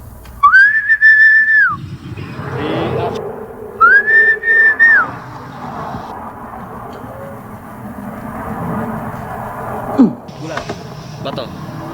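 A person whistles two sustained, rising-and-falling notes, near and clear, over background talk and street noise.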